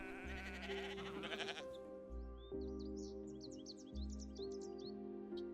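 Blue sheep (bharal) on rugged mountain slopes in Nepal bleat under a steady musical bed, with bird-like chirps scattered through the second half.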